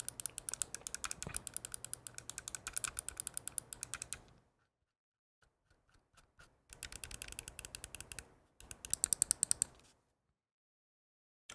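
Glorious Model D- wireless mouse buttons clicked rapidly in close-up, crisp tick bursts in several runs separated by quiet pauses.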